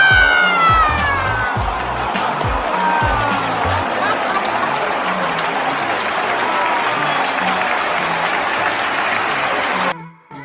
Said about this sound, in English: Even the opposing team fans, Juventus fans, even they were on their feet applauding the goal.